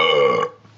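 A single loud, close human burp, a short voiced croak lasting under half a second before cutting off to near silence.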